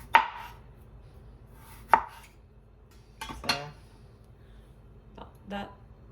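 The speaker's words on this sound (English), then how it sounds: "I finished slicing the potatoes and now I'm going to cut them in about 1/4 inch rounds." A knife slices peeled russet potatoes into quarter-inch rounds with a handful of separate, crisp chops spaced a second or more apart, each a sharp tap on the cutting board against a quiet kitchen background.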